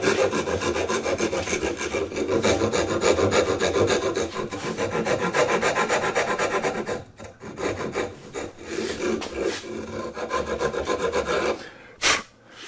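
A hand rasp rounds chamfered wood edges on a Krenov-style trestle sawhorse, with close, rhythmic scraping strokes, long and steady at first, then shorter broken passes with pauses, and no talking.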